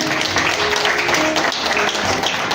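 Loud applause for an honoured guest at a drama festival in Rajouri, Jammu and Kashmir, a dense, steady wash of clapping from a large crowd sustained throughout.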